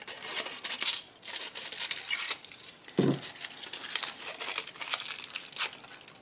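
Aluminium foil torn and crumpled by hand, with crisp crinkling and rustling bursts, one sharper tear near the middle, close and fairly quiet.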